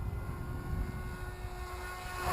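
RC model airplane flying at high throttle, a steady, faint buzzing drone with a constant pitch, heard at a distance over broad wind-like noise and rising slightly at the end.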